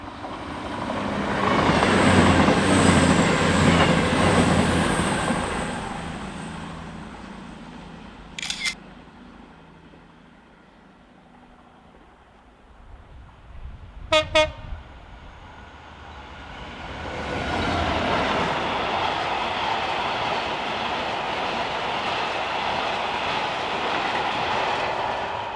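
A train runs along the coastal railway line at Dawlish Warren, a loud rumbling pass with clickety-clack that fades away, a few sharp camera shutter clicks in the quiet, then another rising rumble of rail traffic.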